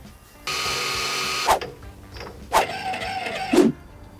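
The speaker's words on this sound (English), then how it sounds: "get it in the lathe, and let's machine that up a bit" Metal lathe turning a small part for a kid's scooter being converted into a tiny motorbike: a steady motor whir in two long bursts, broken by sharp clunks and a final heavier knock, close and moderately loud.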